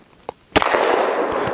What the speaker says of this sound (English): Here we go, Glock 29, 165 grain, bonded jacketed hollow point, probably a spear gold dot.